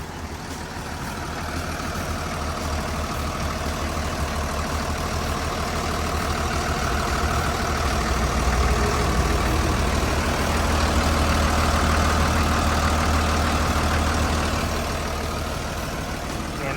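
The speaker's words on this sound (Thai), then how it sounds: "ตัวนี้เนี่ยเขาจ ะเป็นเครื่องยนต์ 6 สูบเทอร์โบนะครับ" The six-cylinder turbo diesel engine of a Hitachi LX100 wheel loader idles steadily for a long stretch, a deep rumbling drone that swells slightly midway and stays loud throughout.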